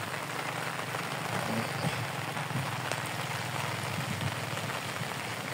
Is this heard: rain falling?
yes